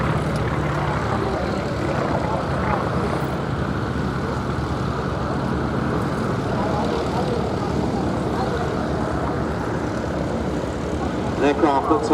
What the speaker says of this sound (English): An aircraft that's a lot of fun to fly, and a very good aerobatic performer as well, running in for their last pass.